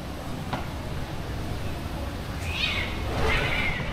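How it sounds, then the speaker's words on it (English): Cats fighting, with strained yowls and caterwauling rising over a steady rushing background roar, the cries growing louder toward the end and coming from a short distance away. "I just heard a cat killing another cat"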